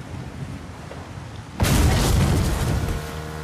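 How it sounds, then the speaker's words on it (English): A tank machine gun fires in a video game, breaking a quiet stretch with a sudden loud, dense roaring burst that lasts over a second before dropping to a lower sustained din. "It was the tank machine gun shooting at me and missing"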